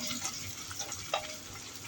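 Garlic cloves, unpeeled, sautéing in a pan with ginger, a soft steady sizzle with faint stirring scrapes and one brief clink near the end, fairly quiet and close, no talking.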